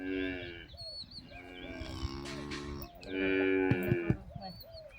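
Cattle on a farm give two long, drawn-out moos close by, separated by a short gap, while birds coo and chirp softly in the background.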